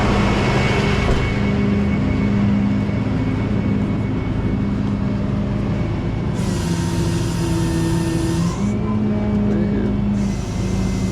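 Truck engine idling back up, a loud steady rumble with droning tonal hums rising and shifting, and bursts of hissing air around the middle and end.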